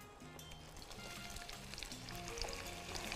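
Onions frying in oil in a pan give a soft, steady sizzle with faint crackles, heard under quiet tonal music throughout.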